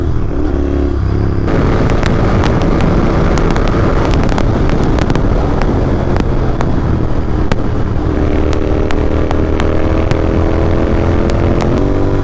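A GT650 motorcycle ridden at night through Bangalore traffic gives a steady, loud engine drone with dense road and traffic noise and sharp crackling bursts scattered throughout, and no one speaks.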